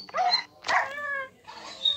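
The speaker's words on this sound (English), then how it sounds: "The dog's in lava." A dog-like wolf in Minecraft gives three short yips and barks in quick succession, close and fairly clear against a quiet background.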